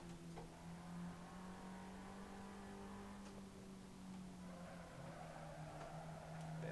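A Fiat 500 circles the Nurburgring in a racing video game, its engine holding a steady, quiet drone with small shifts in pitch and a faint rise near the end.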